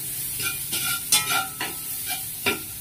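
Browned garlic sautéing in a pan, a soft continuous sizzle broken by several sharp spatula scrapes and stirs at irregular intervals, close and without speech.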